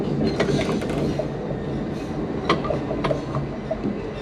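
A heritage tram rolls through Christchurch, its steady rumble and rail clatter filling the cabin from inside, with occasional clicks from the wheels and track.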